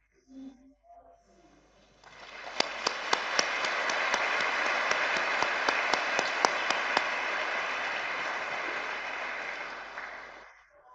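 An audience at an excellence ceremony bursts into sustained applause after a brief quiet moment, a dense wash of clapping with a few sharp standout claps that holds steady for several seconds before fading out.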